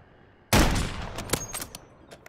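Gunfire in Call of Duty Warzone: a sharp, loud shot cracks out after a brief quiet and is followed by a rapid scatter of fainter, decaying follow-up reports.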